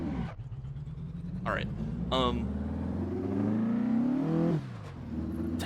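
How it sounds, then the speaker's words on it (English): A car engine in a racing video game revs and climbs through gears with rising, steady drones, then drops off near the end, while a person speaks briefly over it. "Now you can hear my car."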